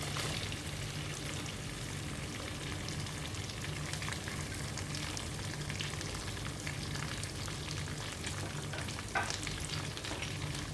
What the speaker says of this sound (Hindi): और अब हम इसके अंदर डाल देंगे अनियंस।